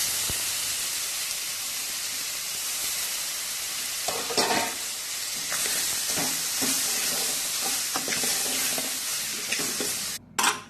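Chopped tomatoes hit a hot pan for horse gram rasam, giving a loud, steady sizzle and hiss with bursts of stirring scrapes throughout, close by and with no voices.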